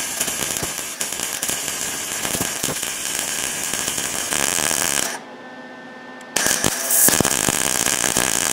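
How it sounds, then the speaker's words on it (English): Arc welding on a cast iron part, joining a back edge to a filler plate: a steady dense crackling sizzle runs throughout, cutting out briefly for about a second before resuming loud and close. "So what I want to do here is weld this back edge where the rod would attach to that filler plate that I made."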